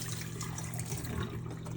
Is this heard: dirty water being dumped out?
yes